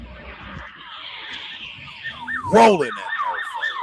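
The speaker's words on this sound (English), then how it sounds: "You gonna start hearing the sirens." Emergency vehicle sirens wail outdoors during a high-speed police chase through a residential street. Traffic noise comes first, then a loud siren sweep surges nearby and is followed by rapid repeating yelp cycles, with a brief spoken word.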